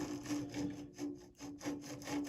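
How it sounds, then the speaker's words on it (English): A metal file rasps back and forth across the corner of a steel shock absorber part in steady, close strokes, about four or five rhythmic passes with short pauses between them. "So a little tip, metal file."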